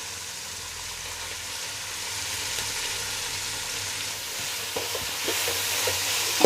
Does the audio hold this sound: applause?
no